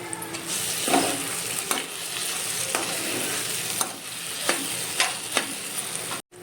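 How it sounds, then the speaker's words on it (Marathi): Ginger garlic paste and kasuri methi roast in a pan for paneer masala with a steady close sizzle, broken by repeated scrapes and taps of a spoon stirring. "आता मी ह्याच्यातच कसुरी मेथी टाकते थोडीशी म्हणजे ती चांगली भाजली जाईल"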